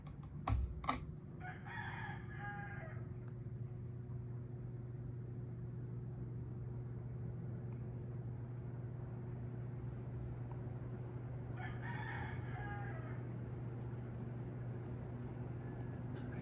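A rooster crows twice from some distance, once early and once near the end, over the steady low mechanical hum of a Westinghouse Turbo Swirl ceiling fan running in reverse.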